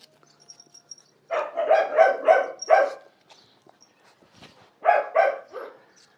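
Dog barking in short bursts, a rapid run of about four loud, close barks followed after a pause by another quick cluster of three, with faint background sounds between.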